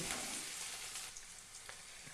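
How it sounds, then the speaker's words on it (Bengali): Cumin and coriander powder being stirred in hot oil in a frying pan for an egg devil filling, giving a short, steady sizzle with a couple of light stirring scrapes. "এটা দিয়ে আমি একটু নেড়ে নিচ্ছি"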